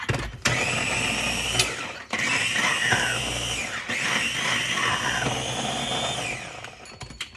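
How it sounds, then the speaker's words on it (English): A food processor whirs loudly and steadily as it pulverizes mushrooms, its motor pitch rising and dipping through several bursts with brief pauses between them, no voices. "I put a thing of mushrooms in the food processor and pulverize them to mix with the meat"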